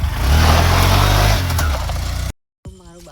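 A motorbike engine revs hard and loud close by for about two seconds, then cuts off abruptly; a faint voice follows briefly.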